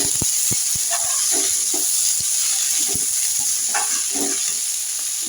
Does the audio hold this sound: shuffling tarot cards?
no